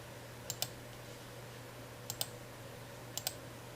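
Three pairs of quick, light mouse clicks spaced about a second apart while working in accounting software, close and crisp over a quiet background hum.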